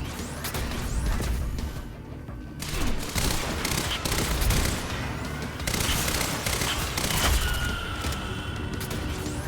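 Rapid submachine gun bursts in the Quantum Break video game, loud and dense with crashing impacts and booms, firing in repeated clusters across the whole stretch with no talking.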